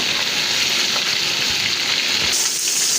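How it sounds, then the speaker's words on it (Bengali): Stinging catfish (shing fish) in the last stage of frying in hot oil: a loud, dense, continuous sizzle with soft popping, close up and with no voices. "তো মাছ ভাজা শেষ পর্যায়ে"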